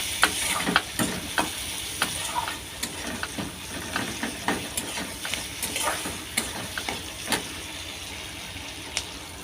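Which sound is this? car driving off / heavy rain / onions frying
onions frying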